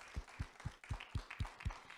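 Audience at a university oratory competition applauds the orators, though only a handful of distinct, evenly spaced claps come through, faint and thin rather than a full crowd.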